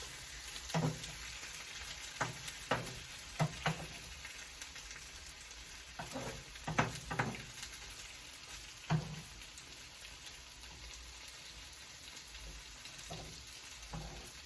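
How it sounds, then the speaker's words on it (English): An omelette fries quietly in a pan, a faint, even sizzle with scattered light taps of a big spatula near the start and middle. "So we let that fry."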